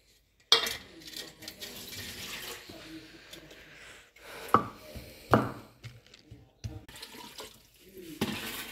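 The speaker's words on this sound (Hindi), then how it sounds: "अभी ये मसाले जो है ना दोरी में कूट लेंगे।" Spices such as garlic and ginger are pounded in a mortar in a home kitchen, giving sharp irregular thuds and knocks with quieter gaps between strikes.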